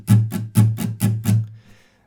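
A few even guitar strums in a straight, evenly spaced rhythm, about six strokes, close and clear, then fading out.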